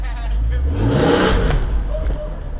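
A BMW E46 M3 engine revs hard under throttle, a close, loud rising roar that swells and then falls away.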